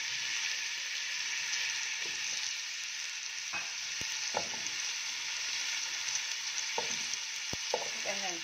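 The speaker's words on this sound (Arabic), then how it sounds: "انا حطيت اللحمه وحطيت البصل وحطيت الجزر، هنشوحها كده تشويحه بسيطه كده." Meat, onion and carrot sauté in a pan, a soft, steady sizzle with occasional sharp clicks and stirring scrapes, fairly quiet and without talk.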